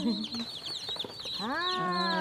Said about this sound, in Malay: Ayam bermacam ayam.